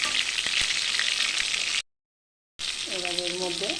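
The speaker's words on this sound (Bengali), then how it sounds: "লবণ দিয়ে পটলটাকে ভেজে নেব।" Pointed gourd frying in oil with salt gives a steady close sizzle, with a couple of sharp stir clicks, a silent break, then sizzling resumes under a brief voice.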